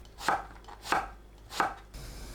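Knife slicing halved eggplant diagonally into half-centimetre pieces on a cutting board: three crisp, evenly spaced chops, close and alone.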